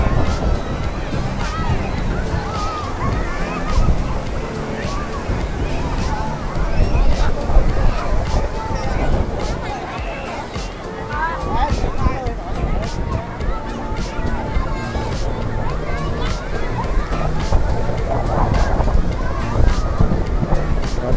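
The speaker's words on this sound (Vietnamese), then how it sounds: "Nhưng mà hôm nay gió rất là lớn." Strong wind roars across a crowded Vung Tau beach during the Tet holiday, buffeting the microphone continuously with a dense rumbling gust noise over surf and a busy crowd, voices faintly mixed in throughout.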